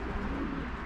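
Pigeons coo briefly and softly at a racing pigeon loft in Szczecin, in a short burst of low murmuring against close background noise.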